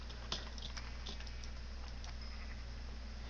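Sheep bleating in the video game Minecraft, a few short faint bleats over a steady low hum, with no talk.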